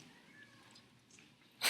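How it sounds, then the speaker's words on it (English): A cat gives a faint, thin meow in the background of a computer science lecture, quiet and brief, followed at the very end by a sudden loud burst of noise. "Did somebody meow there?"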